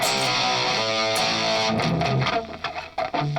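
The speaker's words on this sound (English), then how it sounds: "this is the Crunch channel" An electric guitar plays through the crunch channel of a Bugera 333 amp, dry with no reverb, giving a crunchy, moderately distorted riff of held chords and choppier notes over a few seconds.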